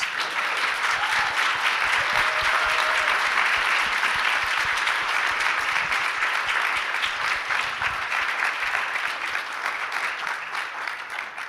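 A conference audience at an SXSW EDU panel on Gen Z community service gives a sustained round of applause, a steady dense wash of clapping lasting the whole stretch with little talk.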